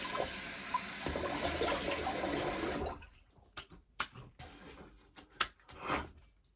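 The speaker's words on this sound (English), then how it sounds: "I'll slap a bit of cold water on there." Running water from a tap flows for a few seconds, then stops, followed by scattered close splashes and wet slapping sounds as cold water is slapped onto the face before shaving.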